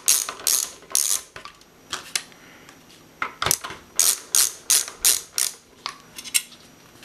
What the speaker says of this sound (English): Let me grab my screwdriver. This is one of those ratcheting kinds.